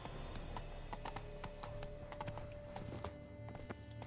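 Horse hooves clip-clop steadily in The Witcher video game, a fairly close, even rhythm of many hoofbeats over a continuous background of game music and ambience, with a brief neigh-like sound.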